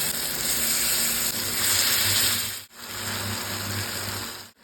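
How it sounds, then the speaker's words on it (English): Loud, continuous sizzling and crackling of marinated chicken pieces sautéing in a pan on high flame, close up, with a brief break near the end as the hiss cuts out. "Now saute this on high flame for 5 minutes."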